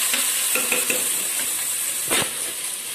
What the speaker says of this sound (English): Mix all this.